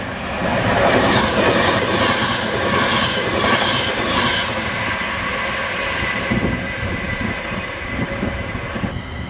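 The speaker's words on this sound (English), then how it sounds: "A Virgin Pendolino speeds through South Parkway." A Virgin Pendolino electric train speeds through Liverpool South Parkway station, a loud, continuous roar and rush of wheels and air that stays close and steady for about nine seconds before easing slightly at the end.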